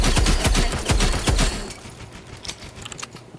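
Rapid automatic gunfire from a gun spammed in the shooter game Rivals, a dense burst of close, loud shots for about a second and a half, then sparse quieter clicks and pops.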